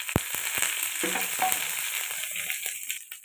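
Finely chopped onion frying lightly in oil with urad dal for a bean stir-fry, a soft, steady sizzle punctuated by a few sharp taps and stirs of a spoon against the pan.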